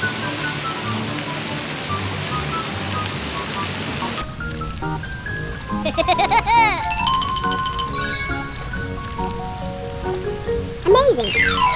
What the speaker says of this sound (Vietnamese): Trời mưa như thế này mà lại ra bể bơi Thì còn gì thú vị hơn Vừa bơi à, Những cái hạt mưa nó cứ rơi lốp lốp lốp lốp lốp lốp